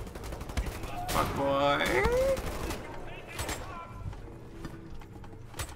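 Bursts of gunfire in the shooter game Wolfenstein The New Order, sharp shots at intervals beneath someone talking, with other game sounds mixed in.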